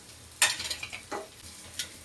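Shrimp being sautéed in a pan for a coconut-tamarind chammanthi, with a sharp scrape of a stirring utensil against the pan followed by softer scraping and brief light sizzling, close and quiet, with no talking.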